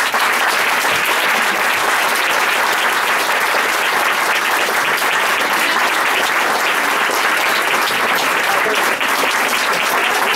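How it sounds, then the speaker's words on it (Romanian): A theatre audience at La Scena in Bucharest applauds after a performance of Goldoni's comedy "Mincinosul", a dense, loud and steady wash of many hands that holds unbroken for the whole stretch. "Aplauze, felicitări pentru Laurențiu."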